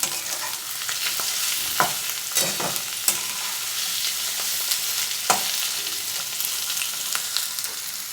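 Grated ginger and spices fry in a pan for fish alu ghati, a dense close sizzle punctuated by repeated spatula scrapes and knocks every second or so.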